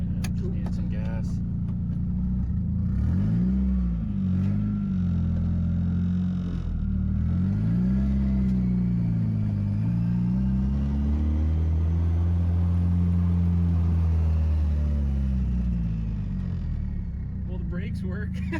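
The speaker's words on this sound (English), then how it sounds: "The 240 now moves under its own power." A Nissan 240SX with a KA-T engine drives slowly, its loud low engine note rising and falling as the revs change, with a person talking over it at times.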